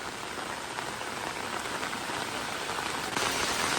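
Steady rain pours at Poomala Dam, a dense, even hiss of drops striking surfaces that holds throughout and swells slightly louder near the end, with no voices.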